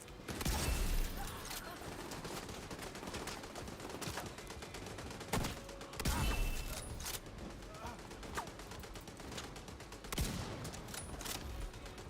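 Gunfire in The Division 2, dense rapid bursts and fusillades from several weapons crackling throughout, with a few heavier close shots standing out.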